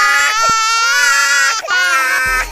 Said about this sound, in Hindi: इससे भी ज्यादा अनोइंग होता है बच्चे के रोने की आवाज।